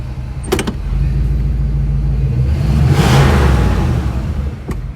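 A 1962 Ford Thunderbird engine runs while the car is driven, a steady low rumble that swells briefly near the middle before settling, with no voices.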